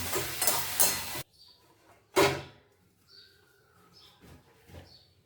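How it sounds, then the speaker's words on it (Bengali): Rice flour being stirred into chutney in a pan: a second of dense scraping and rustling, a pause, then one more brief stirring burst with soft faint clinks trailing after. "টিস্পুন চালের গুঁড়ো দিয়ে আমি সাথে সাথে নাড়ব"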